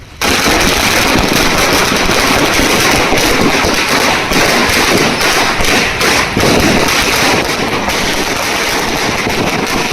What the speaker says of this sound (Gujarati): ફટાકડા ફોડી આતશબાજી કરી